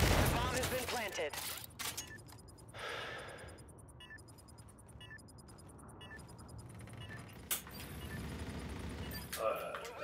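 Gunfire from a Search and Destroy match in a first-person shooter game, bursts of shots scattered through the clip with an excited commentator talking over them.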